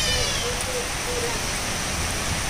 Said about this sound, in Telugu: వర్షం పడుతుంది చూడు